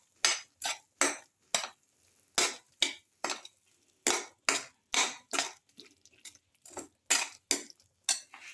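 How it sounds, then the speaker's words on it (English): A spoon scraping and knocking against a pot while fish stew ingredients are mixed, with salt just added to a black pepper coconut mango base; repeated sharp metallic clinks in an uneven rhythm, close and clear, no voices. "Mix thoroughly."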